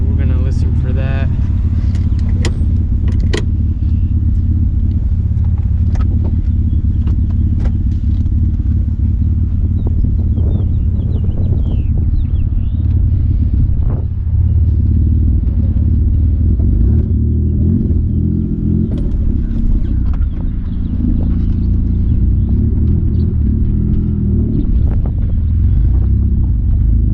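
A Mitsubishi Eclipse GTS with a failing manual transmission drives along, its engine giving a steady low rumble throughout, with occasional clunks and rattles and voices talking over it.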